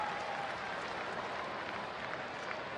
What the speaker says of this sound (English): And you see them starting to clap right now.